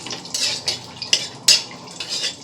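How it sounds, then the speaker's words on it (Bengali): Bay leaves and dried red chillies heating in oil in a pan, with a soft sizzle under a scraping spatula and several sharp metallic clinks against the pan. "তেজপাতা আর শুকনো লঙ্কাটাকে ভালো করে গরম করে নেব।"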